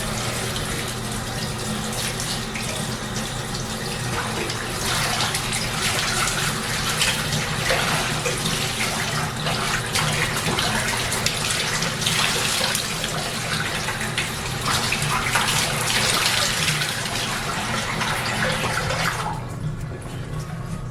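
Bleach-dyed biker shorts being rinsed under a running tap in a sink, a steady broadband rush of water that continues loudly and evenly for about twenty seconds before easing slightly at the end.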